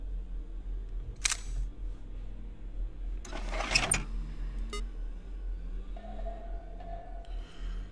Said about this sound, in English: Press space to use the camera flash from your cell phone.